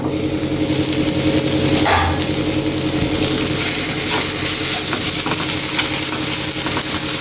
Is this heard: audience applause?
no